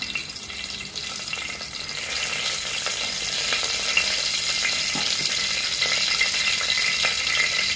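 Whole spices sizzle and fry in hot homemade ghee for soya pulao, a steady close crackling hiss that grows slightly louder after the first couple of seconds, with no voices.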